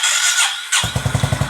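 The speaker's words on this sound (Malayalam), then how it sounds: "വണ്ടി ഇപ്പം സ്റ്റാർട്ടായി" A motorcycle engine cranks with a short whirring starter burst, then catches and settles into a close, loud, rapidly pulsing idle.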